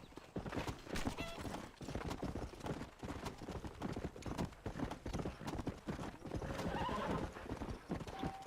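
Horse hooves clip-clop steadily throughout inside the Red Dead Redemption video game, with a horse whinnying clearly near the end.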